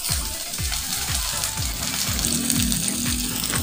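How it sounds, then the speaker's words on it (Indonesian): Shallots sautéing with pepper and candlenut in a pan make a steady, dense sizzling hiss that runs continuously, with a faint rhythmic low thumping under it. "Tumis merica sama kemiri, lalu masukkan bawang merah"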